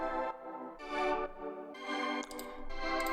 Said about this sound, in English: then done a slow sweep using the filter, just so it adds this kind of build-up effect.